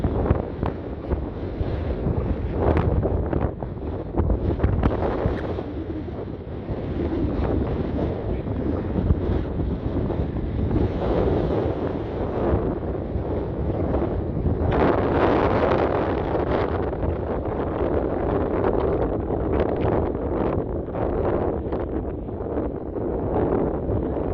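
Strong wind buffets the microphone on a beach at Corralejo, Fuerteventura, a loud continuous roar with gusty surges and surf mixed in, no talking.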